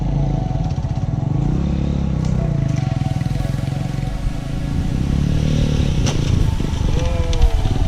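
A road-tyred motorbike with low ground clearance rides a rough dirt road in Vietnam, its engine droning steadily up close while loose clatter and bumps rattle over the top.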